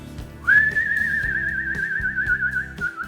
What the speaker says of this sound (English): she has vibrato on her whistle